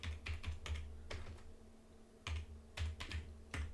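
Someone types a password on a computer keyboard, a faint close burst of quick key taps, then a pause, then another short cluster of keystrokes.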